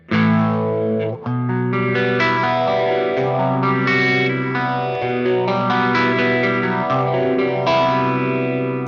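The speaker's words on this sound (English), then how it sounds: "This phaser is actually just a stock setting, because phaser is really simple." Electric guitar played through a BOSS Katana Head MKII 100 amp on a stock phaser setting, sustained chords with a sweeping, swirling modulation, loud and continuous with one brief gap early on, no talking.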